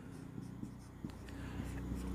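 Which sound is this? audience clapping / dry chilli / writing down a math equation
writing down a math equation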